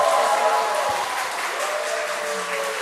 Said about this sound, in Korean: 다 같이 옆 사람에게 뜨겁게 박수를 보내드리겠습니다